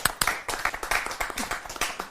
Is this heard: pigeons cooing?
no